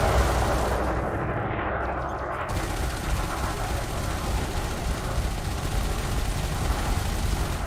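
Sustained spaceship weapons fire in Elite Dangerous Odyssey, a dense continuous roar of rapid shots and blasts, loud and steady throughout with no pauses and no talk.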